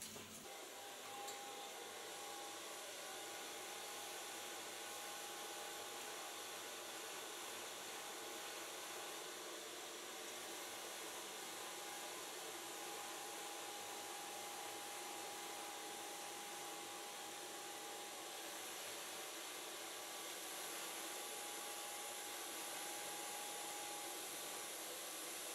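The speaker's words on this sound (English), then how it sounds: "And then I can start blow drying." A handheld hair dryer blow-dries freshly colored short hair after brushing, giving a steady, continuous airy whir with a faint high whine that holds unchanged for the whole stretch, close and alone with no talking.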